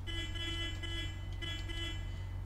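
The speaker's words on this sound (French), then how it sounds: "Klaxon de merde." An articulated bus horn in the OMSI bus simulator game sounds as a steady, sustained electronic tone over a low engine hum, held for the whole stretch at moderate level.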